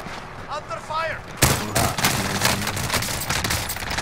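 Gunfire in Call of Duty: Modern Warfare erupts in a loud, sustained barrage of rapid shots after a short stretch of chatter, with voices still faintly heard beneath the shooting.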